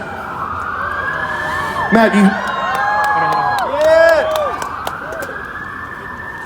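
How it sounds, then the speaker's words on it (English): Several emergency sirens wail and sweep up and down together in the distance at an outdoor poutine eating competition while someone speaks and a crowd murmurs. "I hope everybody's safe. Those sirens are not applause."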